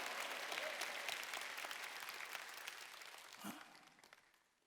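A congregation claps together during a Wednesday worship service at a Korean church. The applause is a dense, continuous patter that holds steady and then fades out toward the end, with no speech over it.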